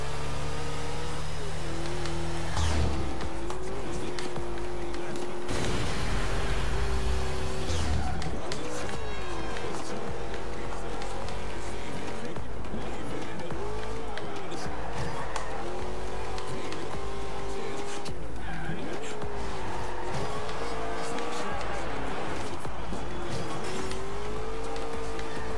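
Racing car engine in Forza Horizon 2 roars and revs hard through a bend, with boost surges and tire squeal, loud and continuous under intermittent talk.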